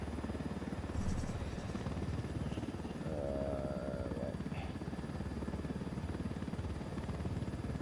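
Helicopter in the video game Ghost Recon Wildlands, a continuous throbbing rotor drone filling the background while someone talks over it.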